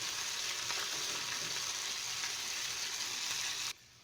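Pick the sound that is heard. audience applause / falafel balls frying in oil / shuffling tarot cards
falafel balls frying in oil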